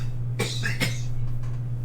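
Two short, harsh coughs from one person, close to the microphone over a steady low electrical hum, followed by fainter throaty after-sounds.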